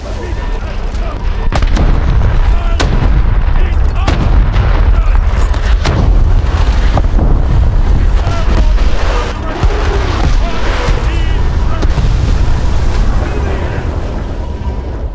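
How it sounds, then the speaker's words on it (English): Booming blasts and heavy rumbling of a missile striking a destroyer at sea, loud and continuous with repeated impacts throughout, over a dense low roar. "Missile launched in our direction."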